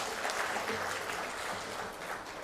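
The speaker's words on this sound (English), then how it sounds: "So may I request all of you to please put your hands together" An awards-ceremony audience at a design and building conclave in New Delhi claps steadily in a sustained, dense round of applause, heard from within the hall at moderate volume.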